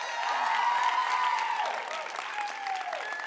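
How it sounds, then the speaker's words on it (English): Applause from a women's empowerment conference audience, a broad continuous wash of clapping that is fairly faint and fades slightly toward the end, with a tonal sweep or voice running faintly over it. "Another round of applause."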